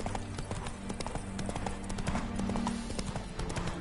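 Steady clip-clop of horse hooves at a walking rhythm in The Witcher 3: Heart of Stone, fairly close and continuous, with a low ambient hum underneath.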